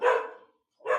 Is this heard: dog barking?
yes